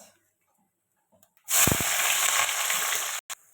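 Onions dropped into hot oil already seasoned with bay leaf, dried red chilli and whole garam masala, frying for paneer curry: a quiet lead-in, then a sudden loud, steady sizzle and hiss lasting nearly two seconds before cutting off.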